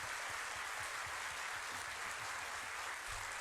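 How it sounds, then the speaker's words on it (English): Dense, steady applause from a large crowd fills the space with a continuous hiss of many hands, thanking the game developer's DE team, quite faint and distant with no voices over it. "The DE team. Let's give them a round of applause."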